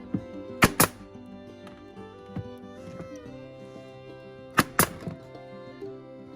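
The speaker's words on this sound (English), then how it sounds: "We're just using nail guns." A nail gun fastens wooden cubby boards, firing two sharp, loud double shots a few seconds apart over a quiet, humming background.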